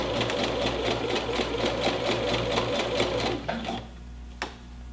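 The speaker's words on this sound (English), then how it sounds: "do a couple back stitches here. Alright, so I'm just going to follow my chalk mark here." Sewing machine running steadily, stitching a double dart along a chalk mark on fabric, with a fast even needle rhythm close up that stops near the end, followed by a couple of faint clicks.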